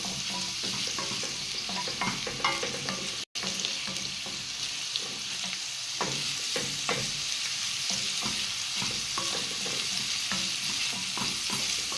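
Fish pieces fry submerged in hot oil for a stew, a loud constant close sizzle and crackle with irregular pops and stirring, broken only by one instant cut.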